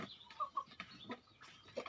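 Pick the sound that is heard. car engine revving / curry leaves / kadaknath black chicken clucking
kadaknath black chicken clucking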